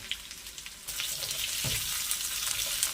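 Cubed potatoes with curry leaves roasting in hot oil: a steady, close sizzle that swells to a fuller, louder crackle after about a second and keeps going without any voice.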